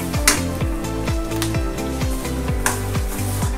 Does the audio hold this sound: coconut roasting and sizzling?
yes